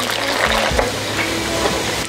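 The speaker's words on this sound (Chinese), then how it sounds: "然后下土豆儿" Potato pieces hit hot oil in a home wok while a crab pot dish is being made, giving a constant loud sizzle over a low rumble that runs for about two seconds.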